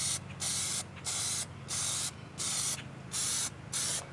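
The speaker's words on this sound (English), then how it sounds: "So as long as you get a good spray over everything, it should be pretty good." Plasti Dip sprayed from an aerosol can onto car rims, loud close hissing bursts repeating in a steady rhythm of about six short sprays separated by brief pauses.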